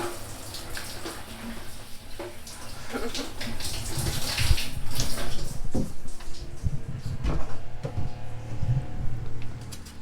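Water runs in a shower on a boat anchored in Fort Lauderdale, a continuous close splashing spray with irregular louder spatters and knocks, heard on its own.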